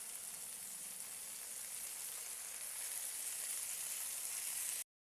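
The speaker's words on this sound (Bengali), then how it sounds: "এবার এখানে সব কিছু একটু এরকম করে ভেজে নিয়েছি।" Steady sizzling of carrots, potatoes, peas and spinach frying in oil in a pan for vegetable khichuri, a constant close hiss with no talking.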